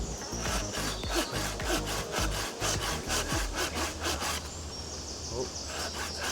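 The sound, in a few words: Bacho Laplander folding saw cutting through wood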